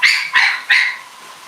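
A dog barks three times in quick succession, close and sharp, with an even rhythm and silence afterward.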